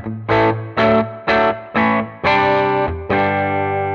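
Electric guitar on the bridge pickup, played through two amps at the push 1 gain level: several separate, evenly spaced distorted chords, then two longer ringing ones, loud and close, with no talking.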